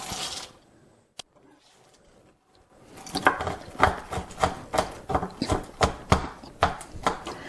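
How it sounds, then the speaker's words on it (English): A knife chops through semi-sweet chocolate chips on a board, with about a dozen sharp, evenly paced close taps following a few seconds of near quiet and one isolated click. "So I'm also going to chop up the chocolate chips a little bit."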